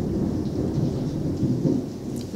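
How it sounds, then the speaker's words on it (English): Thunder from a storm rumbles low and steady with rain noise mixed in, a continuous deep roll lasting the whole stretch at moderate loudness, with no talking. "can you hear the thunderstorm?"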